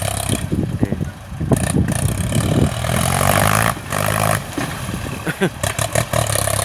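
A tractor engine growls and revs while pushing cleared land for cassava planting, loud and close, with someone talking over the machine.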